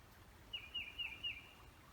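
A single songbird gives a faint, distant run of four thin, high chirps in outdoor ambience, with light background hiss and no voices.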